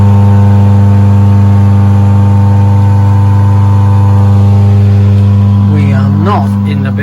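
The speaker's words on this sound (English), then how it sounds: "So the fan goes on, giving a good downdraft" An extraction fan runs loud and steady in a cramped lathe shed, a constant low hum with strong tonal bands throughout, and a voice speaks briefly near the end.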